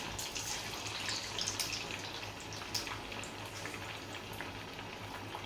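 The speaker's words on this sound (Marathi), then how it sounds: "म्हणून मी आता हे वडे टाकून घेत आहे." Sabudana vadas, made from tapioca pearls, sizzle steadily in hot oil, a soft continuous crackle and fizz with a few brighter pops, close and alone without talk.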